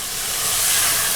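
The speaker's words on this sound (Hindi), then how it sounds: "तो हम इस चिकन को मीडियम फ्लेम पर थोड़ा सा भूनेंगे।" Spiced chicken fries over a medium flame, giving a steady, loud, broad sizzling hiss that holds even throughout the short clip. No voices.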